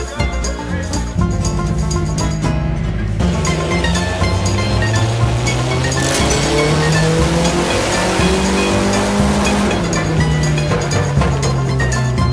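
Loud car engine revving hard on a dyno after a new downpipe was fitted in a drift garage, a sustained roar with rising and falling pitch sweeps across the whole stretch, no talking.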